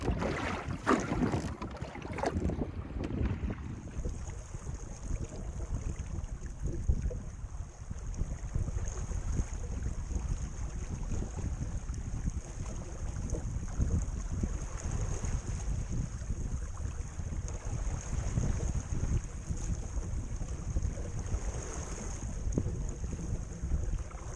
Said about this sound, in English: I have to row a short distance out the creek before setting sail again.